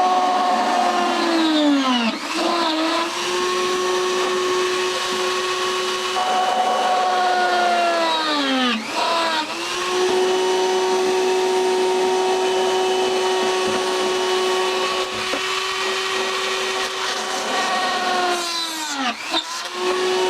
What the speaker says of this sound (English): rather than drilling a hole, this will just burn it right through.